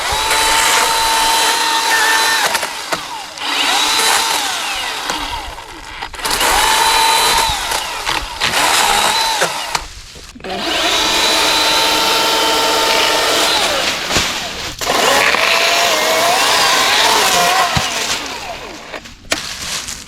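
A top-handle chainsaw, STIHL or Milwaukee, cuts through wood in loud, high-pitched revving bursts, several in a row, each split by short dips in power.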